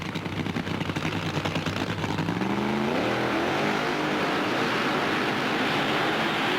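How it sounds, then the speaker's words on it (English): A Pontiac-bodied funny car does a tire-warming burnout at an NHRA drag race, its supercharged engine roaring loud and close with a rising rev sweep midway, then settling into a steady, dense blast. "going to warm up those big rear tires on this Pontiac body funny car"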